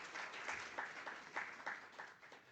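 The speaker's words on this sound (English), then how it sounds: "Maybe another round of applause for that intervention." Faint, steady applause from delegates in a meeting hall at the Committee of Central Bank Governors of Southern Africa, a soft, even wash of clapping heard from a distance for a couple of seconds.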